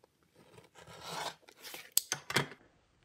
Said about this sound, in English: Cut carefully, making sure the ruler doesn't shift. Rotate the ruler to cut the perpendicular line.